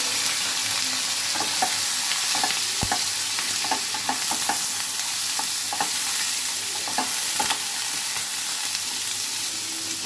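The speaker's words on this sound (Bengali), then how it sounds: "আমরা কিছুক্ষণ আলুটা ভেজে নিব" Potatoes and green chili fry in hot oil seasoned with cumin and radhuni, a steady close sizzle that runs throughout. Light scrapes and taps of a spatula stirring against the pan break in at irregular intervals.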